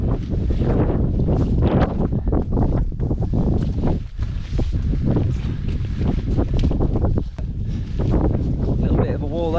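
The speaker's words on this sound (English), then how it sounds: "It's really windy." Strong gusting wind on Stanage Edge in the Peak District buffets the microphone with continuous loud roaring and rumbling, while a person talks underneath.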